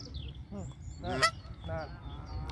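Geese honk nearby in a park in Paris, with about three short, nasal calls in quick succession over quiet surroundings.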